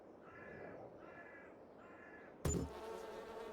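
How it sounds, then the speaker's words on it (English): Three harsh caws repeat in a steady rhythm, followed by a sudden loud thump and a low ongoing hum of bees around a hive, in the farming game Farming Simulator 22. "take a look at these bees and make sure they are flying out of the hive"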